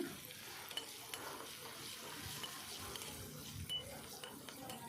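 Grated onion with chana dal and urad dal stir-fries over a medium flame, a faint, close crackling sizzle broken by soft scraping stirs at irregular moments.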